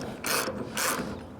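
A ratchet wrench snugs a 3/4 axle nut on a Masterbuilt Autoignite Series 545 grill, giving two short, close bursts of rapid clicking separated by a brief pause.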